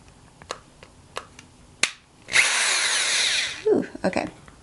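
A power drill twists wires for a brooch bouquet, whirring loudly for about a second and a half, bracketed by sharp clicks and handling taps before and after.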